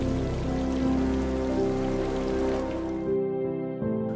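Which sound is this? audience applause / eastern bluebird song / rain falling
rain falling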